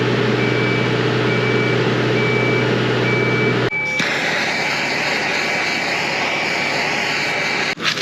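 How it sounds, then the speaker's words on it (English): A blowtorch flame heats a boat propeller to loosen it from its shaft during a refit, giving a loud, steady roaring hiss that shifts in tone partway through. "a bit of heat from the blowtorch to hopefully pull the propeller off the shaft"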